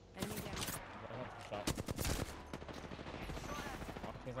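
Bursts of rapid gunfire crackle in the Apex Legends battle royale game, heaviest in a dense volley midway through, with sporadic shots before and after, mixed with game ambience and occasional talk.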